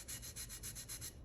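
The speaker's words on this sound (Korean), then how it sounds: "이런 부분을 사포로 다듬어 주시면 사포가루가 떨어지면서 매끈매끈해집니다" Sandpaper scrubs across a ceramic piece in quick back-and-forth strokes, about eight soft, evenly spaced passes that sound close and raspy. No one talks.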